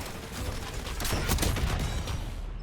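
Sustained automatic gunfire from the Grim Reaper scorestreak in Call of Duty Black Ops 6, a dense continuous barrage of rapid shots lasting throughout, loud and close with mechanical clatter and no talk.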